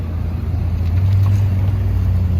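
A Lexus LFA sports car at a busy Los Angeles car meet, its engine a steady low rumble that holds for a couple of seconds, close and fairly loud with no talk over it.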